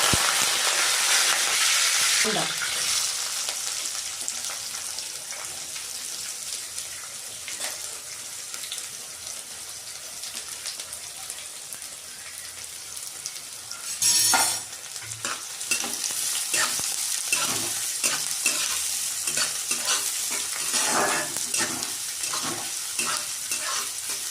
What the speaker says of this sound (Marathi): इकडे बघा कांदा भाजतोय